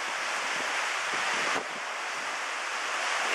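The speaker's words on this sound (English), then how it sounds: "waterfall from our room balcony." Waterfall in Skagway, Alaska heard from a balcony, a steady broadband rush of falling water, continuous and moderately loud with a slight dip partway.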